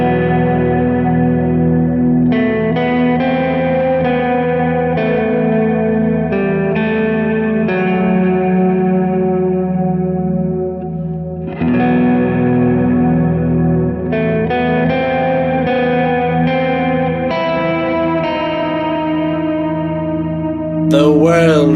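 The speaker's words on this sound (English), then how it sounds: "I'll add in the delay, add in the reverb" An electric guitar played through a worship pedalboard with delay and reverb rings out in sustained chords and notes, each attack blooming into long echoing tails that overlap, loud and alone without any voices.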